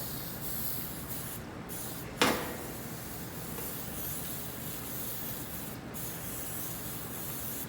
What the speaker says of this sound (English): Spray the pan really well.